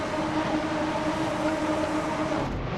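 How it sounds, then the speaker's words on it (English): A grid of race cars at Virginia International Raceway's full course in a sim racing game holds a steady, loud engine drone at the start, a dense wall of sound with no voices. "Engines are revving."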